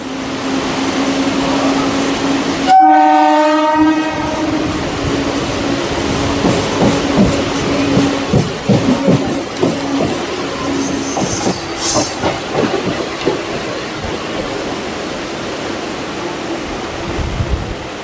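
Howrah to Digha local train running on single-line track around a curve, a loud steady rumble with rhythmic wheel clatter, a sharp horn blast early on and a brief high wheel squeal later.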